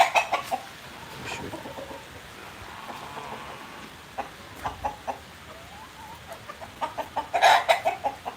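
Several chickens cluck nearby outside a goat-farm shed in short, irregular bursts, growing busier and louder toward the end.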